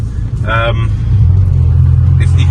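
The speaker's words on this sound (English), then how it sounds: "might be able to hear the exhaust, it's quite loud." A loud, deep exhaust on a rusted Skoda Felicia Fun drones steadily throughout, with a voice speaking over the rumble.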